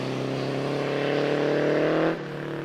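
A vintage Austin 7 engine drones loudly and steadily close by, its tone building slightly before dropping off sharply near the end as the car moves away.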